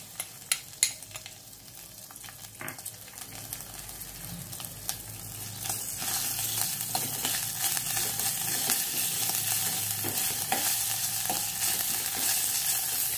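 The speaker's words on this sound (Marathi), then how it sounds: "ठेचा जरा छान असा परतून घ्यायचा आहे." Ginger and green chili thecha sautéing in a pan with asafoetida for buttermilk kadhi, opening with a few utensil knocks, then a sizzle that swells and holds loud with stirring scrapes.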